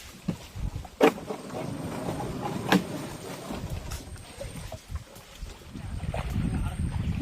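Small boat on the water in the Sundarbans, a steady low rumble of water and wind with a couple of sharp knocks, heard up close while people talk faintly nearby.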